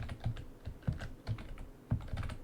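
Fingers type on a computer keyboard in a steady run of soft, close clicks and taps lasting a couple of seconds, with no talking.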